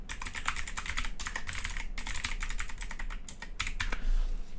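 Rapid, steady typing on a computer keyboard while entering an email address into a Git configuration command, the keystrokes clicking densely and close by throughout with no voices.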